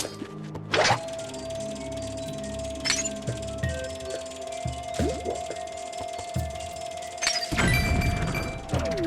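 Bombs dropped onto rocks in Zelda: Skyward Sword's Lanayru Desert, heard as a few separate thuds and a crashing burst near the end over a steady game tone and ambience.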